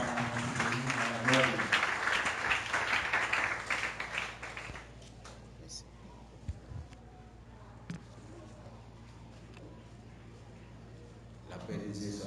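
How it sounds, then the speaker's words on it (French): A church assembly applauding during a service: dense, fairly loud clapping fills the first few seconds, then fades to a quiet room with scattered small sounds. "nous avons applaudissement à l'Assemblée"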